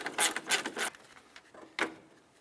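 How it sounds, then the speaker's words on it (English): A ratchet loosening a bolt on a 2007–2012 Nissan Sentra during windshield washer reservoir removal, giving three quick close bursts of clicking, then a single shorter burst after a pause. "We can remove this bolt."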